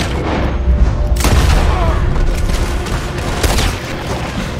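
Gunfire and explosions in Red Dead Redemption 2: loud booming shots over a rumbling bed of noise, with two sharp cracks standing out about two seconds apart.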